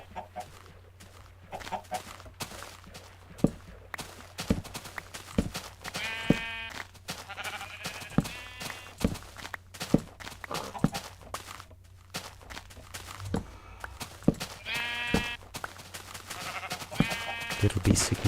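Sheep in a blocky sandbox video game bleat in repeated short calls over steady background game noise, with footsteps and clicking throughout and a voice talking at times.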